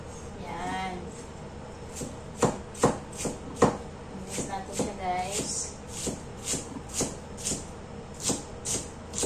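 A knife mincing avocado into small pieces on a cutting board, with a run of crisp, uneven chops spaced about half a second apart and a person speaking over the first few cuts.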